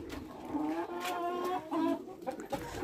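Hens cluck in a yard as they are let out, several short tonal clucks and calls in quick succession, close but fairly soft.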